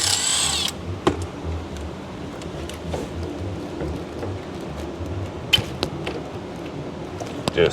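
A power tool whirs in short bursts, close and loud, while unbolting a wiring harness connector on a Ford F-150, with clicks and clanks of the tool against metal between runs.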